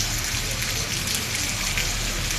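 Steady, dense rain pours down continuously, a loud even hiss of water hitting surfaces with no pauses.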